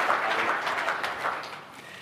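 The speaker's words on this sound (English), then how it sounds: "Let's give him a little round of applause." Audience applause at an industry conference, a steady wash of many hands clapping at moderate volume that gradually thins and fades toward the end.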